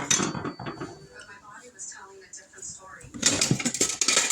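Spatulas and other kitchen utensils being rummaged and handled while cooking copycat Wendy's chili, light clinks and clatter under talk, growing busier and louder near the end.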